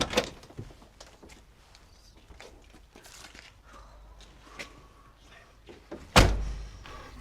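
A heavy prison door opens in Superman II, a long stretch of faint clanks and shuffling ending in one loud, sharp slam of metal near the end.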